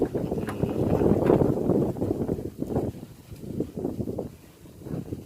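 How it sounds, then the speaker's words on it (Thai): Strong wind gusts buffet the microphone outdoors in a rice field during sowing of RD85 rice, a loud broadband rumble that surges and eases without talk. "โอ้ลมดีจัด"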